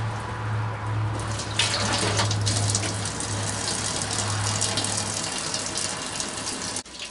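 Maple syrup drains from a turkey fryer pot through a filter as a steady, close splashing pour. It runs unbroken for several seconds, then stops abruptly near the end.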